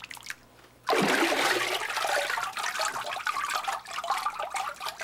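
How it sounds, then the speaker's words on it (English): Paper pulp fibers stirred by hand in a vat of water for papermaking, heard as a sudden loud splashing churn that starts after a quiet moment and continues as steady sloshing and swirling close by. "Before I form a sheet, I have to charge the vat by stirring the fibers in the water."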